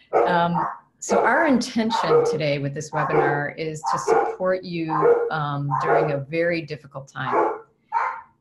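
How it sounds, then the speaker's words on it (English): Dogs bark in the background during a webinar, intermittent barks and yips beneath a speaker's steady, continuous talk. "And I apologize for the dogs."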